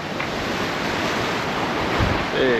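Ocean waves wash steadily around a sailing boat at sea, with a constant broadband surge, wind buffeting the microphone, and a slightly louder swell near the end.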